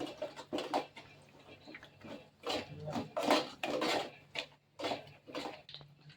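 Spoon or spatula scraping and clinking in a pan while spices and salt are stirred into paneer curry, a series of irregular near scrapes and knocks with no talk.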